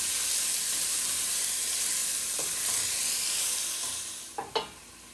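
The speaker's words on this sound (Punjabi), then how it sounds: "ਆਪਣਾ ਜੀ ਇਹ ਲਸਣ ਤੇ ਅਦਰਕ ਜਿਹੜਾ ਭੁੱਜ ਗਿਆ ਹੈਗਾ ਆ" Garlic and ginger fry in oil in a pan as the base for a Punjabi-style lamb mutton curry. A steady broadband sizzle runs throughout, with a couple of sharp stirring knocks near the end.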